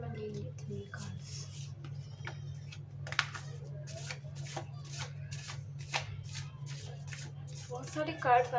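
Tarot cards being handled and shuffled up close, a run of quick crisp riffling flicks and soft slaps over a low steady hum, with someone speaking in Hindi at times.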